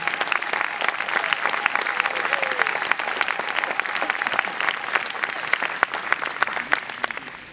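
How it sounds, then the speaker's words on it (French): Applause from a church congregation: sustained, dense clapping from many people, loud and filling the space, with a few voices mixed in. "Et applaudissons le Seigneur pour ce que nous sommes."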